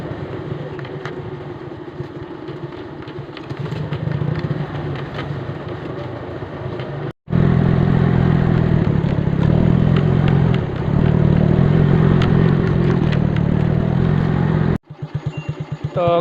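A motorcycle descends a steep, overgrown mountain trail carrying loaded cargo, its engine running steadily and close with rattling clatter throughout, briefly cutting out twice.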